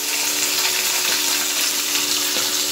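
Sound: rohu fish frying in a pan

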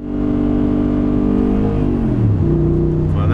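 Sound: car launching from a standing start in a race

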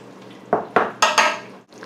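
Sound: stirring chili with cocoa powder in a pot

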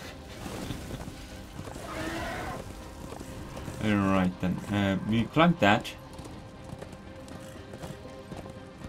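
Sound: horse in video game Darksiders 2

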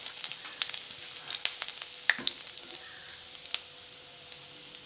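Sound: chopped garlic frying with mustard seeds in oil

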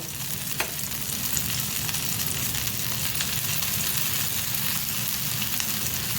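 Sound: oil poured around thalipeeth frying on a pan

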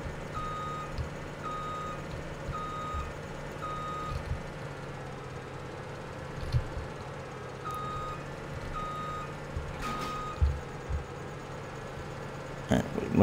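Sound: reversing vehicle pulling trailer in Farming Simulator 17 video game

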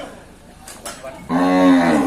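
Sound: young water buffalo calling at a livestock market

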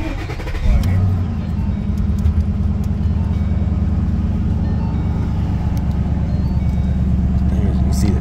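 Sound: 2012 Ford Mustang Boss 302 engine cold start

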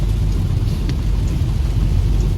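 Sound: heavy rain

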